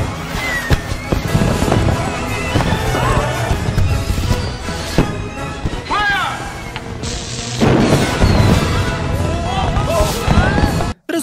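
Fireworks set off during a water-skiing stunt in the Yogi Bear film: loud, repeated bangs and crackles with whistling rockets bursting over a dense mix of film sound and voices, ending abruptly.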